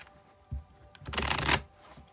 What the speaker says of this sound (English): All right, I'll shuffle till it feels ready,